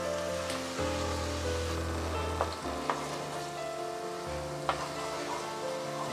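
Roughly chopped onion goes into hot oil and fries with a steady sizzle, interrupted by a few sharp clinks and stirring knocks from a utensil against the pan, close and fairly quiet.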